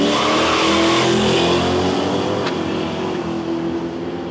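A Holden HG drag car with a big block Chevrolet engine roars loudly and steadily at a drag strip, the deep engine tone holding before easing slightly as it pulls away.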